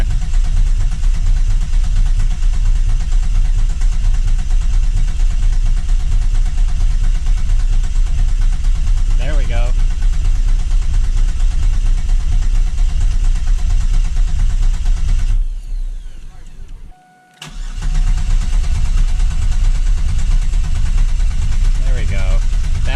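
A 3.8L V6 in a fourth-generation Camaro runs at a steady idle just after installation with no oil pressure, loud and close, briefly cutting out near the end before restarting; someone speaks briefly.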